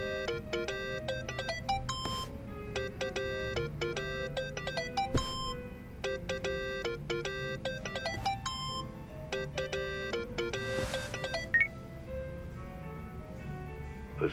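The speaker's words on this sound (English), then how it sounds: "Think that's your phone, man." Ringtone of a cell phone in Yakuza: Like A Dragon, a looping pattern of bright, chiming electronic notes repeated in short phrases over a quiet low hum, close and persistent throughout.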